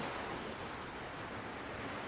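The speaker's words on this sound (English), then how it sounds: "So this is the famous waterfall" A waterfall at a Robin Hood filming location, heard as a steady broadband rush of falling water, even and unbroken, with no voices.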